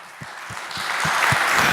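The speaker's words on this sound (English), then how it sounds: "Please give her a warm applause." A conference audience at DAHO.AM 2018 breaks into applause for a speaker, the clapping swelling quickly from scattered claps into a dense, steady roar.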